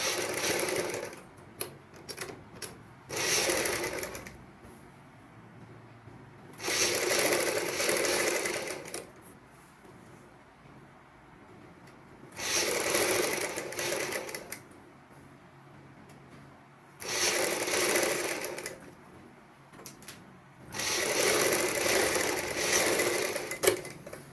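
A sewing machine stitches piping onto a choli armhole in five or so loud whirring bursts of a few seconds each, with quieter pauses between runs and no speech.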